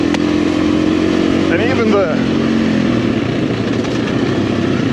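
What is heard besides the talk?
PR7 motorcycle riding in Portugal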